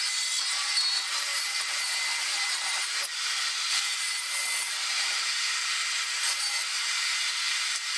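Portable bandsaw on a stand cutting metal for a trailer fender repair, a steady hissing, rasping blade noise that holds constant and close without pauses.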